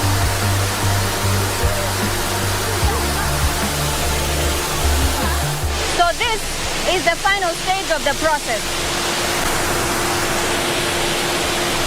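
Falling water roars steadily in the cooling tower of a geothermal power plant, where exhausted steam condenses back to water; someone talks over the continuous rushing noise for much of the span.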